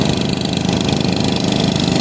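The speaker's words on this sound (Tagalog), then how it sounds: "Napakaingay lang dito, guys, dahil kung gawa na may generator po sila" A generator runs at a construction site driving steel piles into the Pasig River near Fort Santiago, giving a loud, steady, close engine drone with no break throughout.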